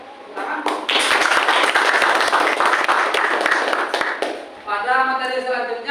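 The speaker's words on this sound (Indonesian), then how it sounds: "Kasih tepuk tangan." Classroom applause as students clap together in a burst lasting several seconds, moderately loud and fairly close, ending before a teacher's voice resumes speaking.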